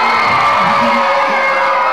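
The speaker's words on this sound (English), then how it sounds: "Don't be cheering yet," A crowd at a GAA team homecoming cheers and whoops loudly and continuously, with shouting voices blending into a steady roar.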